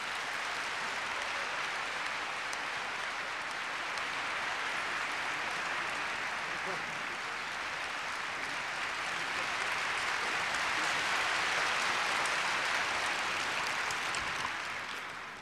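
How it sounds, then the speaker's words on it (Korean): Audience applause at a year-end Seoul Philharmonic concert celebrating Korea University's 100th anniversary: a dense, steady wash of clapping from a large hall crowd that holds for about fifteen seconds and swells slightly toward the end. "시장님께 큰 박수 부탁드리겠습니다."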